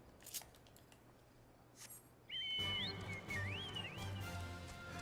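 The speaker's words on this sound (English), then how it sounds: "Whistle to draw out Patrapatan and slay him" An in-game whistle from Final Fantasy XIV rings out halfway through, a bright warbling tone that sweeps up and down several times over a steady game backdrop, after a few soft clicks.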